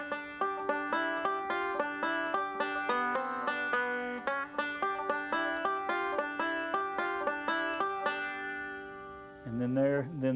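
A five-string banjo picks the first four measures of a festival tune in bright, rapid rolling notes at an even tempo, ending in a brief sliding phrase, played alone at moderate volume.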